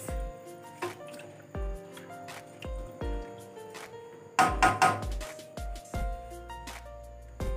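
Soaked rice being mixed into a vegetable pulao pot, heard as a series of soft wet squishes and spoon thunks against the pot at an irregular pace, close and moderately loud.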